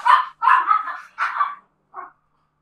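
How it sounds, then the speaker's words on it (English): A dog barks indoors at children heard outside: four loud, close barks in quick bursts, the last one shorter and softer, with no other sound. "he likes to start barking."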